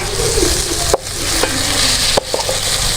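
Semolina roasting in ghee for creamy halwa, a loud close sizzle with a spoon stirring and scraping the pan, three sharp knocks breaking the steady frying noise, no voices.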